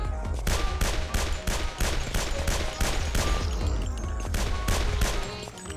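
Rapid bursts of close gunfire crackle in a gory shooter game, sharp regular shots firing in quick repeated volleys throughout.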